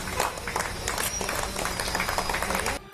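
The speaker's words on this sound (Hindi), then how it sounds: "लोग सड़क किनारे खड़े हो गए और तालियां बजाकर उन्होंने पुलिस वालों का स्वागत किया" Residents standing along a street clap to welcome police officers, a steady, dense patter of many hands with crowd murmur, cut off abruptly just before the end.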